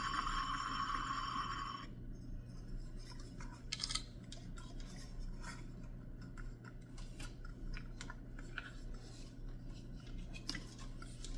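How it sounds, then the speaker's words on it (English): The bottom base plate of a ceiling fan is turned onto its threads, giving soft, faint scratchy rubbing and light ticks that follow a short steady tone at the start, close up. "this bottom base plate. It looks like it just simply screws on"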